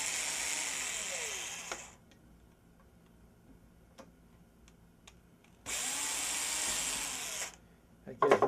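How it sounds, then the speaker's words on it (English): A power drill pre-drills for screws on a TV antenna build, whirring in two short bursts separated by a quiet stretch with faint ticking and clicks. "I always take and just pre-drill something"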